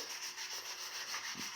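Steady rubbing of 80 grit sandpaper on a car bumper, worked down to hard metal during a respray repair, a continuous faint scratchy hiss with gentle rhythmic strokes and no talk.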